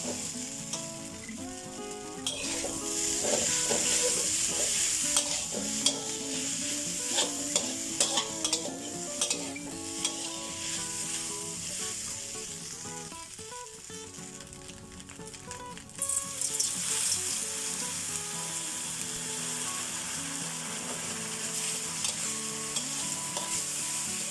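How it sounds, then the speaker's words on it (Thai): Catfish dry-frying in a pan with galangal, lemongrass and kaffir lime leaves gives a steady, close sizzle, with a spatula scraping and stirring throughout and a brief lull midway before the frying picks up again. "เราคั่วอีกครั้งหนึ่งเนาะมันก็จะมีกลิ่นหอมของปลาดุกแบบปลาดุกย่างแล้วก็กลิ่นเครื่องเทศ"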